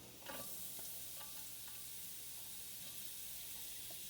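Onion fries in oil in a heated pan on a kitchen stove while black bean soup is being made. A faint, steady sizzle runs throughout, with a few soft clinks of stirring near the start.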